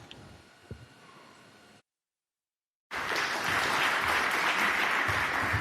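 An audience at an EU conference event bursts into loud, sustained applause after a moment of silence, the dense clapping continuing without a break to the end.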